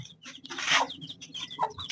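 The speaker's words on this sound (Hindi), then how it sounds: "वो मुर्गी है, वो मुर्गे के पीछे है" A hen with chicks clucking close by, a short burst of soft clucks mixed with higher chick-like peeps over about two seconds, no talking.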